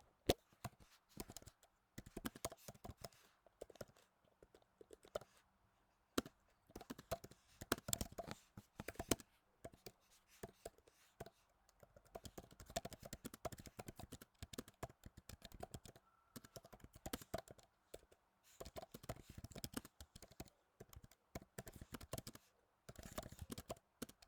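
Typing on a computer keyboard, close but faint, in irregular bursts of quick clicky keystrokes with short pauses, going on for over twenty seconds with no talk.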